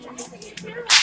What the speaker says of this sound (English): he's about to do the single whip first